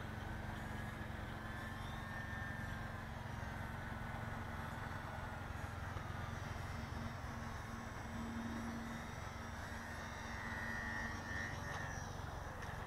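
A UMX ICON A5 RC model seaplane drones steadily overhead as it comes in to land on water, a thin continuous motor whine with slight pitch shifts, moderately faint against outdoor background noise and without speech.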